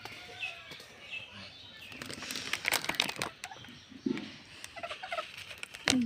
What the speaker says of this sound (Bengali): এই দেখো মুরগি আছে এখানটায় এই একটা মুরগির ঘর আর ওই একটা মুরগির ঘর